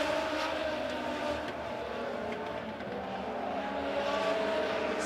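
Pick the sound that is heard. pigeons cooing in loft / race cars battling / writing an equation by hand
race cars battling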